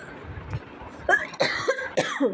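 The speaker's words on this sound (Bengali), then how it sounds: "প্রচণ্ড কাশি উঠছে" A few harsh coughs close up, bursting out one after another over a soft background.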